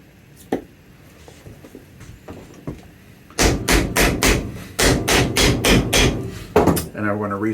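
A new shank is hammered into the sole of a Red Wing 10875 boot during a re-craft. It starts with a few faint, scattered taps, then a run of loud, close, rapid blows in quick succession, with a brief ringing tone at the end.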